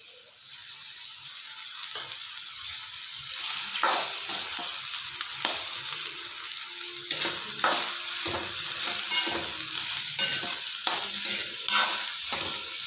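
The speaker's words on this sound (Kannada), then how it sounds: "ಚೆನ್ನಾಗಿ ಹುರ್ಕೊಳ್ಳೋಣ ಚೆನ್ನಾಗಿ ಹುರ್ಕೊಳ್ಳಿ" Chopped ridge gourd sizzles in oil in a pan, with a steady close frying hiss and frequent scraping stirs of a spatula throughout, no voices.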